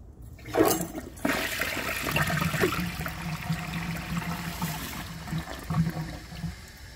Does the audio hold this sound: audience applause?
no